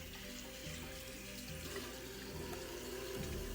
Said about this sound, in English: We go ahead and turn on the water.